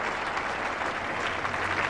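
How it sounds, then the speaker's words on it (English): Cricket crowd at The Oval in 1975 applauding Bob Woolmer's century against Australia, steady, sustained clapping from a large stand throughout. "deserving the acclaim of this oval crowd"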